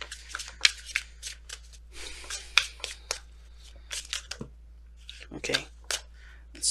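Tarot cards shuffled by hand, with repeated papery riffles and flicks in irregular bursts, close and fairly loud, with occasional quiet talk.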